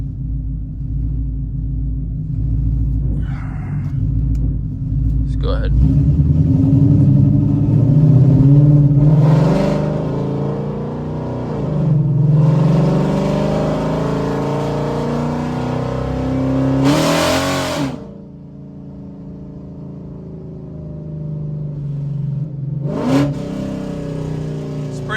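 A 2017 Mustang GT V8 in track mode revs repeatedly, building from a deep idle rumble into several loud, aggressive throttle blips that drop back between pulls, with a brief spoken phrase at the start.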